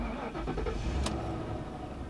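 A 2011 Ford Crown Victoria Police Interceptor engine cranks and catches, a steady rumbling motor close by with a brief sharp click in the middle, no talk.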